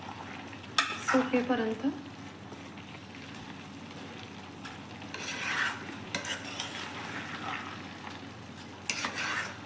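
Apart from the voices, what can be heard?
stirring carrot halwa in a pan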